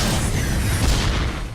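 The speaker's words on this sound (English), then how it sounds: "God, these explosions sound so good." A loud, sustained explosion from the racing video game Split/Second, a dense rumbling boom that fills the whole clip with heavy low-end roar and only a slight fade near the end.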